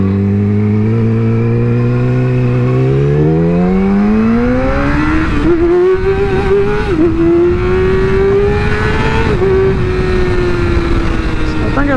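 A motorcycle engine revs hard on the throttle, its pitch climbing steadily, then holding high and strained with small dips. It is loud, close and continuous.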